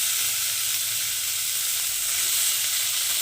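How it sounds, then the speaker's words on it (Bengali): Paneer fries lightly in butter in a kadai, giving a steady, close, even sizzle with a soft hiss that carries on unbroken throughout, with no voices. "এবার পনিরগুলোকে আমি এটার মধ্যে একটু হালকা ভেজে নেব।"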